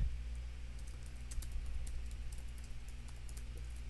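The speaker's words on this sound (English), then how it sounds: "What are you typing?" Fast, light clicks from a computer keyboard run in a steady patter over a constant low hum while Minecraft Hunger Games is played, faint and close.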